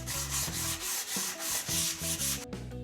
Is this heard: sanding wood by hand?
yes